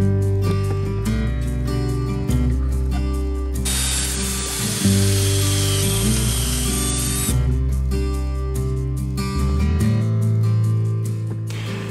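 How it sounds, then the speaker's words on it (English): Drill boring pocket holes through a board clamped in a Kreg pocket hole jig for a raised garden bed frame, a loud whirring motor with changing pitch, brief pauses between bursts and a hissing stretch mid-way. "Now you clamp on the pocket hole jig to the board itself and drill 2 pocket holes into the end."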